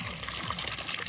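Clear water flows and trickles steadily close by in a brief, even stretch with no pauses.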